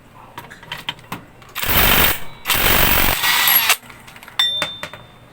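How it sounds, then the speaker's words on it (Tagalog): An impact wrench hammers loose the 22mm pulley nut on a Honda Click scooter's CVT, firing two loud, rattling bursts about a second each, framed by lighter tool clicks and handling clatter nearby. "So sa pagtanggal ng pulley mga boss, pulley nut, ay kailangan natin ng 22mm gamit yung ating impact."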